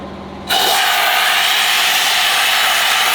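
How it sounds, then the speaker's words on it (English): A turbocharged LS1 engine's first start-up blows steadily like a hairdryer, a loud continuous whooshing hum close by with no talking. "really is a hairdryer!"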